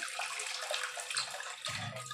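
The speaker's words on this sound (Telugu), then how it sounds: "నీళ్ళు పోసి వీటి మునే మునిగేంత వరకు నీళ్ళు పోసుకొని" Water pours steadily into a pot of eggs, a continuous splashing rush that deepens and grows fuller near the end, close by.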